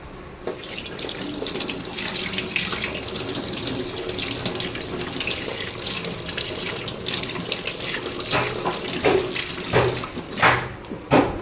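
Tap water runs steadily into a kitchen sink while tamarind is rinsed, a continuous close splashing rush with slight swells and splatters near the end.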